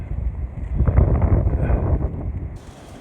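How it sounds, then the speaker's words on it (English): Steady wind gusting through trees on a farm with cattle and hay bales nearby, a broad low rushing roar that swells near the mic and then drops off abruptly toward the end, heard alone. "Just listen to that wind through the trees."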